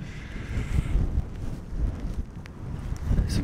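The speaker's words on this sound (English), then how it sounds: "it is so windy. Sorry for any noise." Strong coastal wind near Land's End, Cornwall, buffets the microphone in low, rumbling gusts that swell and ease continuously, with no voices.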